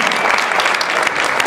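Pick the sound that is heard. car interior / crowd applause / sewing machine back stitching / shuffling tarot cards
crowd applause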